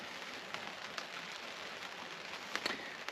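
Light rain falling outdoors at a garden plot as the weather turns cold, a faint steady patter of drops with a few slightly louder taps, no one talking.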